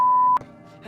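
A single loud steady censor beep tone runs for about a third of a second, then cuts off abruptly into faint background noise with a brief soft speech fragment after.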